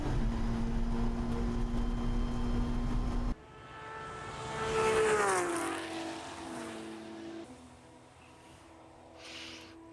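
Race cars, a Mustang and a Porsche, roar past at Watkins Glen during a seven-hour endurance race, a steady engine drone giving way to a loud rising and falling pass-by before fading into the distance.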